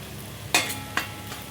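Spices and coconut powder frying in oil in a pan, a soft low sizzle with two sharp stirring scrapes close by, otherwise quiet.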